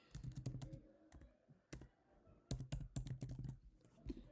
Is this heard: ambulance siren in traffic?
no